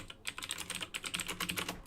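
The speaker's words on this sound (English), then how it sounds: "You're typing." Rapid, steady clicking of typing on a computer keyboard, heard fairly faintly at close range with no voices.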